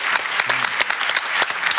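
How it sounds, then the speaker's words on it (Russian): A studio audience at the Russian game show Сто к одному applauds a contestant in a dense, lively burst of clapping that lasts through the whole short stretch. "Аплодисменты, да, Дмитрий, мы рады, Дмитрий, ура!"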